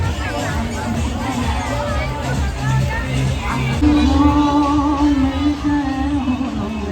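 A dense throng at the Kankaria Lake carnival in Ahmedabad gives off constant hubbub, with overlapping chatter, occasional children's shouts and a rising surge of nearby voices toward the end.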